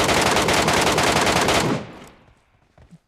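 Sustained automatic gunfire in PUBG Metro Royale, a loud close burst of rapid shots that cuts off abruptly, leaving faint scattered sounds afterward.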